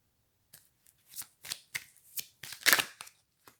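Tarot cards being shuffled by hand in a series of quick, crisp papery bursts that build to a louder flurry near the end, heard up close with no talking.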